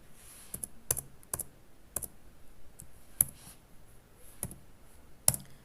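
Individual keystrokes tap on a computer keyboard while C code is typed, about a dozen sharp, close clicks spaced irregularly with short pauses and no talking.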